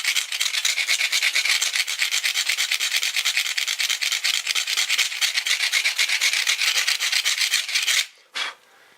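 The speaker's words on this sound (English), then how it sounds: "then you can just sort of scrape it off" Fast rhythmic rasping as a blade scrapes high spots off a 3D-printed scale model car body, loud and close, with steady even strokes for about eight seconds before one last brief scrape, no speech.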